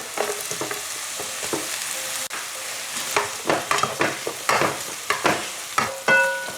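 Shrimp and dried chili frying for pad thai give a soft, steady sizzle, broken by irregular scrapes and clinks of stirring in the pan, close and with no speech.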